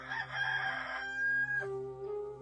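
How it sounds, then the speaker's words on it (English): A rooster crows once, close and fairly loud, in a single drawn-out call with a rising middle and a falling tail. No voices are heard. "and a rooster crowed."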